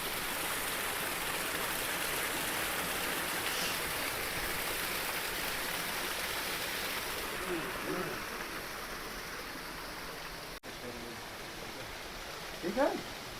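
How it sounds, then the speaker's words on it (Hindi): Water from a natural mountain spring runs steadily into a large rock-cut basin, a constant broad rushing hiss throughout, moderately distant and soft, with brief faint voices near the end. "पहले देखिए झरने में जा रहे हैं जल लेने के लिए।"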